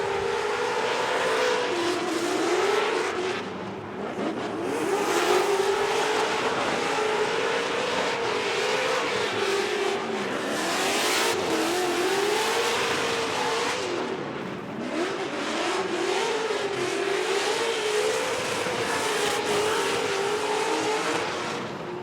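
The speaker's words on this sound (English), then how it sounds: "listen to this wild man, Rome Charpentier's Garagistic BMW E36 on Federal Tires" A high-revving BMW E36 drift car engine on Federal tires screams continuously at a Formula Drift event in Irwindale, its pitch rising and falling as it drifts, with tire noise mixed in, loud and fairly close.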